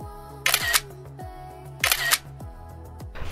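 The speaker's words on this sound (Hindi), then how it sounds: "मैंने भी उनके कैमरा से ट्राई किया है माउंटेन शीप की फ़ोटो लेने के लिए" A single-lens reflex camera shutter fires in two quick bursts of clicks, close and crisp, while photographing mountain sheep near Leh in Ladakh, with a faint low hum between shots.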